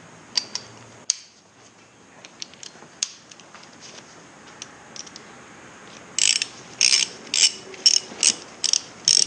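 Socket wrench ratchet clicking while tightening bolts on a rebuilt Kawasaki Z125 Pro engine in a garage, with scattered single clicks early, then a close, loud run of rhythmic ratcheting bursts near the end.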